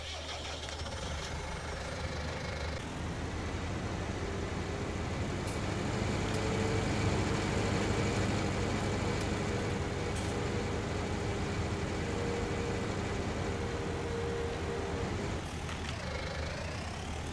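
A tractor engine in the video game Farming Simulator 19 runs steadily for a long stretch, a low droning rumble with slight shifts in pitch and a faint whine, no talking.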